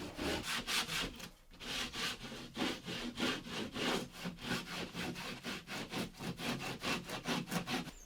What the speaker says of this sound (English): This piece was just a little bit longer than I needed it to be, so the drywall rasp really helps to